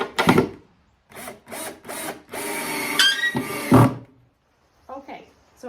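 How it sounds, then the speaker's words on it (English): A power drill drives screws to fix the lid onto a Warre bait hive, in short whirring bursts separated by pauses, with a voice heard in between. "we need to screw on the lid"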